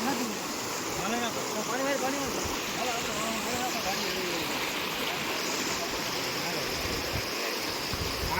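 Floodwater rushes steadily across a village road in Gir Gadhada, a dense continuous roar of flowing water, loud and unbroken, with faint voices in the background.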